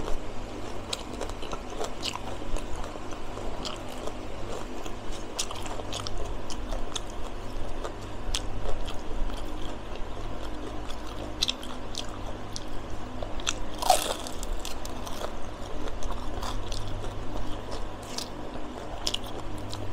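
Repeated close crunching bites and chewing of crisp fried lumpia shanghai sold as cheap street food at a market. The crackly crunches run steadily for about twenty seconds over a continuous busy background hum.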